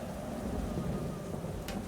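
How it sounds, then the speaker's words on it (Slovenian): Cartoon thunderstorm effect over a forest on a summer afternoon: a dense, steady hiss of rain with low rumbling, and a brief bright crackle near the end. "Nekega poletnega popoldneva je v gozdu nastala nevihta."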